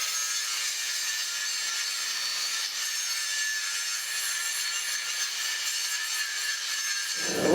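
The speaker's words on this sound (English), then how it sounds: "I'm gonna go ahead and grind those off and try to get down to some clean steel" Steady grinding on a canister damascus steel bar to clear its surfaces down to clean steel, a continuous, loud, bright abrasive hiss that holds unbroken before cutting off at the end.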